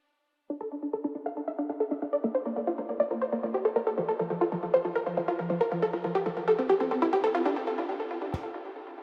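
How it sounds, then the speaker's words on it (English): Two stacked layers of a Spire saw trance lead synth play together, a rapid run of bright sawtooth notes swelling in brightness over several seconds, heard alone with a short click near the end. "And together they give a nice sound."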